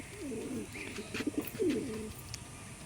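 A pigeon at close range gives a few soft, low throaty coos in short bursts over a faint background hum.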